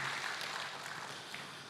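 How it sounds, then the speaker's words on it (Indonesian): A church congregation at JCC Cijantung applauds. The clapping is faint and distant, a brief even patter that holds steady and then fades slightly. "Kasih tepuk tangan buat Deborah."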